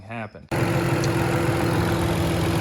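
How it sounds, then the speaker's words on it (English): An inline-six M54 engine in a turbocharged BMW E39 wagon running steadily at idle after a brief spoken word, with a constant low hum and tonal drone throughout, being checked for a misfire. "Engine running."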